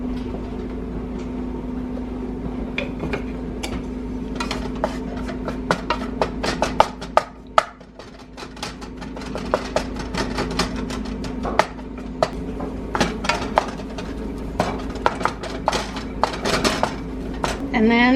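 Flour browning in bacon grease in a pan for gravy, with a busy run of close utensil scrapes and clanks against the pan over a steady low hum, and a voice talking at times.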